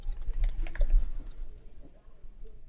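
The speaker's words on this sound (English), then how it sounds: "You can hear the keys typing." Computer keyboard keys typing in a quick irregular run of clicks, steady and close, heard alone with no voices.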